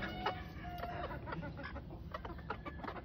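Chickens cluck softly and repeatedly at close range, short pecking calls scattered over a low hum of farmyard noise.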